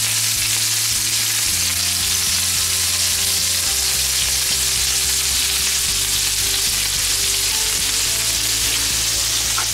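Potatoes browning in a hot pan, a loud, constant close sizzle and crackle filling the whole stretch, with a low steady hum beneath and no talking.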